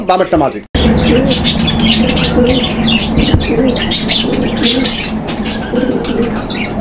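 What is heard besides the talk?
pigeon calling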